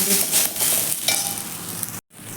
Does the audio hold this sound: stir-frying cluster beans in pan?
yes